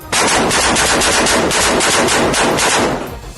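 Soldiers fire rapidly into a house in Khan Younis, a loud, close, unbroken burst of automatic gunfire with rapid repeated shots lasting about three seconds before trailing off.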